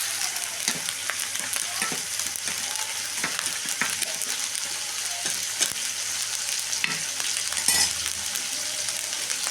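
Spiced potatoes fry in hot oil in a pan, a constant close sizzle running throughout, broken by scattered clicks and scrapes of a spoon stirring.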